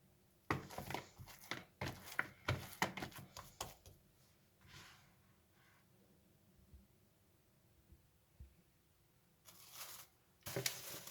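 A plastic bag rustles and crinkles as it is laid over proofing potato bread dough, coming in bursts of crackling up close, then fading to quieter handling before more rustling at the end.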